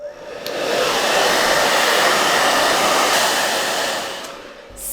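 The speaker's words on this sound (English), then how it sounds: "I'm gonna take my blow dryer and I'm gonna blow dry the hair down in the new direction I want it to fall." A handheld hair dryer blow-drying a human hair wig, a steady, loud whooshing roar that swells in, holds for several seconds and tapers off, with no talking.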